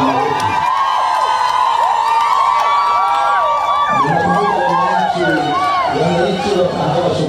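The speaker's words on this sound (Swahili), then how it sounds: "naomba kusikia nduru na shangwe ya gavana wetu" A crowd at a gathering in Kahawa Sukari, Kiambu County, cheering loudly for its county governor, with shrill wavering ululations and whoops rising over a dense, continuous roar of voices.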